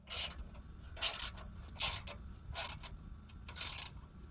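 Bolts being fitted into the factory holes of a 2021 Ford Bronco modular bumper, heard as about five crisp metallic ratcheting bursts at a steady rhythm over a low hum, close by.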